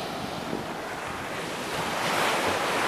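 Sea waves surge and wash steadily along the Arabian Sea coast in Kerala, a continuous broadband roar mixed with wind buffeting the microphone and no voices.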